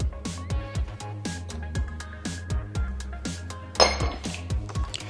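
A spoon or chopsticks rhythmically clinking against a bowl while stirring soy sauce, sesame oil and black pepper, sharp repeated ceramic taps close up with no talking.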